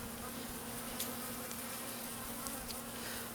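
Honey bees buzz continuously around a hive just stocked with package bees, a dense steady hum close by with no talk.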